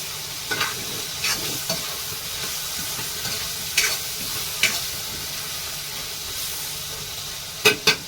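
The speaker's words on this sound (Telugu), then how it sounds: "ఇంకా అలా వేగిన తర్వాత మునక్కాడ ముక్కలు కూడా వేసేసుకుంటున్నాను" Drumstick pieces frying in a pan of oil with turmeric and salt for a simple curry, a steady close sizzle broken by a few sharp spatters and stirring scrapes, no talk.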